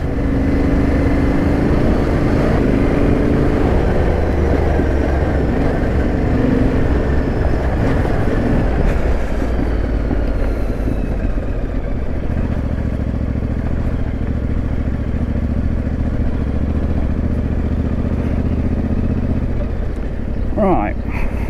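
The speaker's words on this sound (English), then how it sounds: "I'm just keeping the power on and just letting the bike do the work" Off-road adventure motorcycle pushing through deep sand on a trail ride, engine held under steady power in a loud, continuous close drone with wind rush and clattering throughout.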